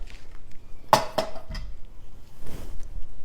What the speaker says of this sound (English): So I'm going to set this on the stove